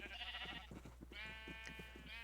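Sheep in Minecraft bleat in a few short wavering calls from a pen of many colored sheep, fairly clear over a low steady hum, with no talk.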